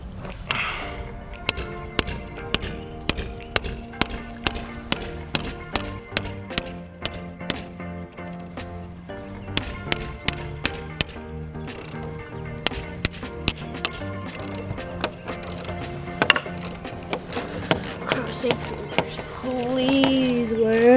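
A hammer strikes an outdoor water hose spigot in a long series of sharp metallic taps, loud and close, coming at a quick uneven pace with short pauses.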